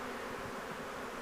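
A honey bee swarm in Red Bluff, California, in early spring gives a steady, dense, faint buzzing drone with no voices present.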